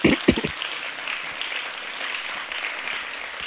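A few loud claps at the start, then steady applause from an audience at a short film contest evening that continues evenly throughout.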